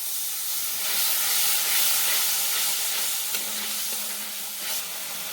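Water splashed into chilli powder and ground spice paste frying in oil for a rohu fish kalia, giving a steady, close steaming hiss and sizzle that runs for several seconds with no talking.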